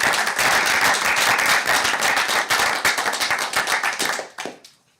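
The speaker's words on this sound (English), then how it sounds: "So a quick just clap for our principals." An audience claps for school principals at a district board meeting, a dense burst of applause that holds steady, then thins and fades out near the end.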